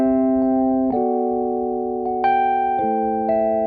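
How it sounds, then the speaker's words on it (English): Dry Rhodes electric piano plays a few slow chord changes, its bell-like mono tones clean and close with no added effects. "This is the dry Rhodes sound."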